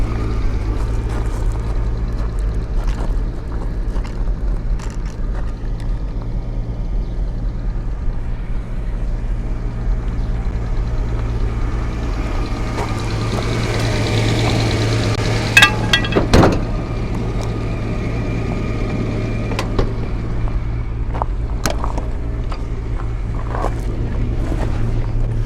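A 1989 Jaguar XJS engine runs steadily with a low droning hum as the car drives. Wind and rumble build midway, with a few brief knocks and clunks.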